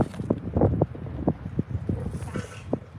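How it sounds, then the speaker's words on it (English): Strong wind gusts buffet the microphone outdoors at a raised garden bed, a close, rumbling roar with flapping and knocking mixed in, carrying on steadily through the stretch. "it has been super windy"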